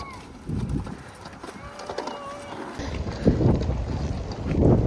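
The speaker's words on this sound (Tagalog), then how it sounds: "Grabe ang hangin, guys." Strong wind buffets the microphone with rushing, gusting noise that swells toward the end. No voices.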